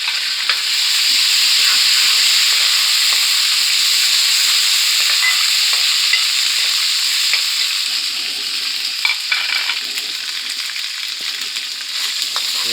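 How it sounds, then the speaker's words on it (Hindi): Green chillies and ginger garlic paste frying with lightly browned onions in a pan for aloo chicken: a steady, loud, close sizzle with hissing steam and occasional stirring scrapes, no talking. "अब इसमें ऐड करेंगे हम 2 से 3 हरी मिर्चें और 1 चम्मच अदरक लहसुन का पेस्ट।"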